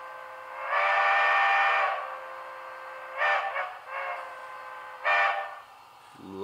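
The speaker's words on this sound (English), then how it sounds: "Oh, there's also a quillable whistle on here too." A quillable steam whistle on a model train locomotive blows one long note, then several shorter varied toots, clear and moderately loud in a quiet room.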